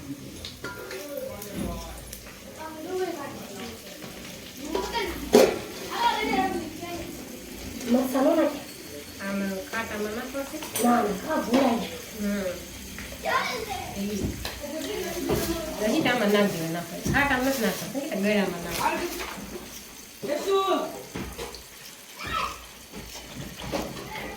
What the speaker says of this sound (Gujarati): ને મારા મામી છે ને બોળો વઘારે છે